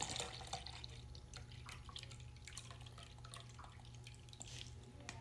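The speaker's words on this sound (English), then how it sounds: "And then my favorite part, adding the Gatorade." Gatorade pours and drips into hot water for cleaning a gold and diamond ring, faint close liquid trickles and splashes over a low steady hum.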